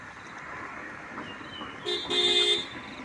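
A vehicle honks its horn in two bright blasts on a highway, a short toot followed by a longer one, over steady distant road noise.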